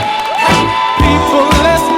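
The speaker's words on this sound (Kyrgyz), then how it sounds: "Кол чабуулар." A wedding hall crowd cheers and whoops for the newlywed couple called to the centre of the room, lively bursts of noise rising and falling over a steady musical drone.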